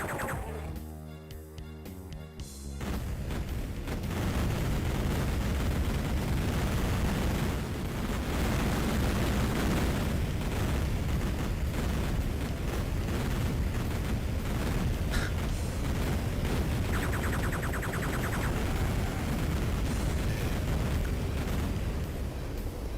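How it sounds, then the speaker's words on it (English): A powerful explosion in the video game Duke Nukem 3D, heard as a sustained loud roaring blast and rumble that fills the scene for many seconds after a brief quieter start. "Well, that's one powerful explosion."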